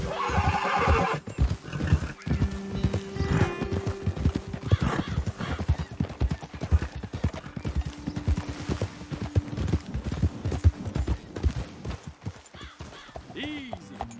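Horses in Red Dead Redemption 2 clop along with steady hoofbeats and let out loud whinnies, close and continuous, with speech mixed in.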